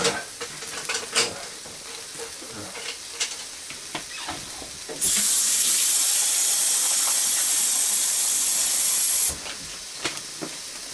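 Shrimp and rotini noodles stirred in a hot pan give off light clinks and scraping, then a loud, steady hissing sizzle for about four seconds before it drops back to quieter stirring.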